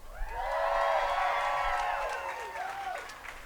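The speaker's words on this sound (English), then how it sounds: "the rest of you can cheer for them" Crowd cheering, applause and whoops at an outdoor Hollywood Walk of Fame ceremony, swelling loudly in the first second and holding steady before tapering slightly near the end.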